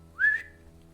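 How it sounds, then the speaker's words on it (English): One short rising whistle sounds clearly and alone over a quiet low hum, then fades quickly. "you hear a whistle."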